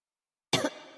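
A single close cough burst from a woman, sharp onset then a short fading tail, heard alone after silence.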